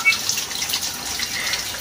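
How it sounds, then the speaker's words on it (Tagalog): Water runs from a tap for handwashing, a steady soft hiss close by with slight splashing and no voices. "Ang una po natin gagawin ay maghuhugas na tayo ng kamay."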